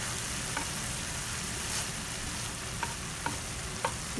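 Burdock kinpira simmering on low heat in a pan, a steady soft bubbling hiss with a few faint clicks of utensils against the pan, no speech.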